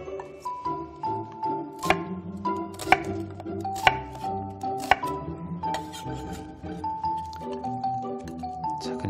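Onion being cut into large chunks with a knife while cooking Korean food, sharp irregular chopping knocks on a board, some ringing accents, over a soft background melody.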